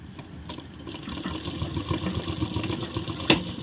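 A sewing machine runs steadily as it stitches pieces of a ladies' palazzo pant together, a close, continuous mechanical whirr with a rapid needle rhythm and one brief louder click near the end.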